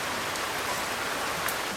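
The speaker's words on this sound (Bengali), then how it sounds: "তখন থেকে বৃষ্টিটা ভালোই ধরেছে।" Steady rain falling on a rainy day outside a home kitchen, an even, unbroken hiss of drops at moderate volume with no voices.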